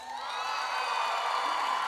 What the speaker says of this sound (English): I want everybody to give yourselves a round of applause.